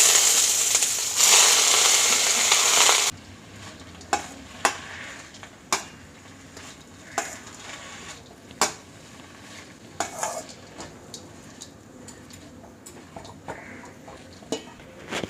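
Fresh mint leaves stirred in a pan after frying to golden brown, a loud sizzle at first giving way to sparse clinks and scrapes of a spoon against the metal.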